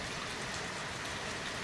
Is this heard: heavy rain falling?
yes